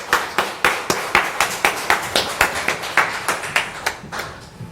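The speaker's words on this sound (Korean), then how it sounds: "큰 박수로 격려합시다." A small church congregation claps in a steady, even rhythm, about four claps per second, fairly close and loud, fading slightly at the end, with no talking over it.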